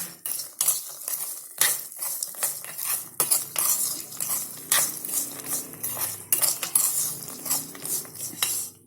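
A spoon stirs spice masala into fried dal and puffed grains in a metal vessel, producing repeated sharp scraping clinks and rattles in an irregular rhythm, close and fairly loud.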